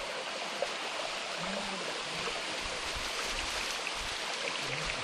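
Continuous rushing water from Hemmed-in Hollow Falls, a broad steady roar of falling water heard up close, with no talking.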